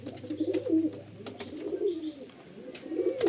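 Chotiyal pigeons kept for sale coo in soft, throaty, rolling phrases, repeated a few times at close range with faint background clatter and no speech.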